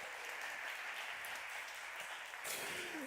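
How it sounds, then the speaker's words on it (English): A live audience applauds at a gastronomy tourism forum session held at Brewery De Halve Maan in Bruges. The clapping is soft and distant, steady throughout, with a slight swell near the end. "how about a round of applause?"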